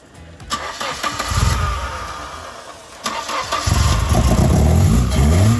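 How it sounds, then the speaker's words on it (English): A race car engine cranks and catches, then roars up loudly, with a second surge of revving that builds and stays loud to the end. "That sounds like a real car now."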